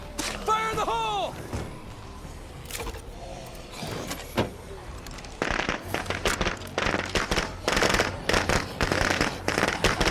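An explosive goes off in the zombie survival game State of Decay 2, heard as a burst of loud, crackling, popping blasts filling the second half, after a voice is heard early on.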